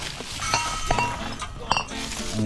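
Discarded glass beer bottles clink against each other several times at a littered cliffside viewpoint, sharp glassy knocks scattered over a steady outdoor background.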